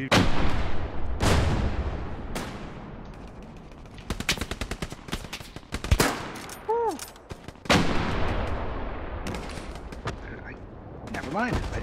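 Gunfire in the Hell Let Loose war game: loud rifle and machine-gun bursts, sharp cracks and distant artillery booms crowding the whole stretch, with whistling incoming rounds and a few spoken words among the battle.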